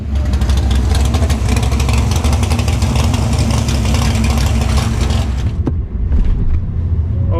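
A 434ci drag Camaro idles loudly at the drag strip with a lumpy, choppy rumble that holds steady, then drops away near the end as another engine rattle briefly takes over.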